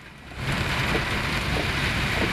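Heavy evening rain pours down in Jayanagar, Bangalore, a dense, steady hiss of downpour on surfaces that swells louder after a softer opening and holds without voices.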